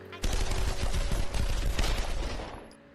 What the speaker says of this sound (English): Stop it! Shots fired! Shots fired!